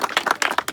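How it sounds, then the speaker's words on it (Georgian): A short burst of hand clapping from a small group applauding a prize winner at an off-road jeep club outing, quick and close, lasting under a second. "აპლოდისმენტები."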